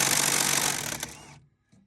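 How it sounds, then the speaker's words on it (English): Pneumatic or power tool spinning nuts off 10mm studs on a sharpening stone with a 15mm socket: a steady, loud, whirring rattle for over a second that cuts off abruptly, with a faint click after. "this takes a 15mm socket. Pull these nuts off."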